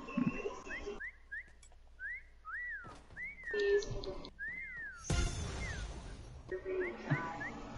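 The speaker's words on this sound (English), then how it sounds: "Somebody whistling at you." A person whistles a series of short rising and falling tunes outdoors, loud and close, in several bursts with gaps, over rustling, wind noise and movement sounds, with one louder whoosh partway through.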